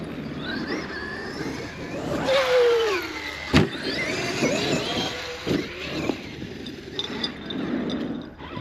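A Traxxas X-Maxx RC car revs in short bursts of throttle outdoors on a cold morning, its electric whine rising and falling as the wheels spin, with a sharp knock partway through.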